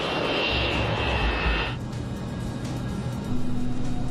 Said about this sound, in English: The 727 is now at the runway threshold,